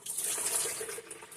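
Water being poured while making juice in a home kitchen, a steady hissing splash that runs the whole way through, close and moderately loud, with no talking.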